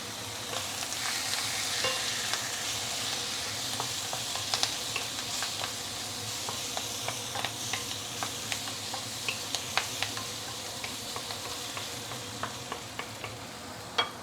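Instant noodles and vegetables stir-fried in a hot pan with light soy sauce, a continuous sizzle punctuated by frequent sharp scrapes and clinks of a utensil tossing the food, close and steady without talk.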